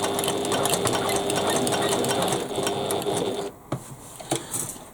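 A sewing machine stitches bag panels with a fast, steady rattling whir that runs continuously, then slows into a few separate clicks and knocks near the end.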